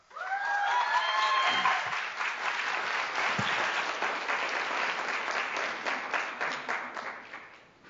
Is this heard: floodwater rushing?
no